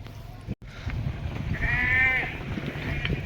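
Goats being let loose bleat once, a wavering cry over constant outdoor background noise with a brief dropout just before.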